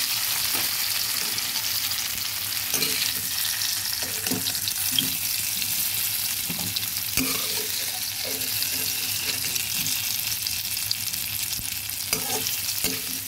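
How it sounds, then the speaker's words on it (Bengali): Potato and papaya pieces frying in a pan for a country-chicken curry, a continuous oil sizzle with scattered soft clinks and stirring scrapes, close and moderately loud, no talk. "হ্যাঁ, আলু আর পেঁপেটা ভাজা হয়ে গেছে"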